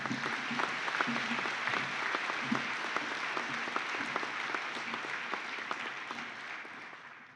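Sustained applause from a graduation ceremony audience fills the space for the whole stretch, a dense, steady wash of many hands clapping that holds at an even level and only eases slightly at the end.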